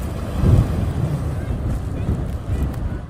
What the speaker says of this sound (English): that surf is building. Watch as it pounds the rocks at this beach.